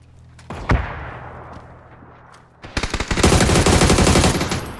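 Video game shootout in a duo match: a single loud shot early, then a dense burst of rapid automatic gunfire that fills the last couple of seconds.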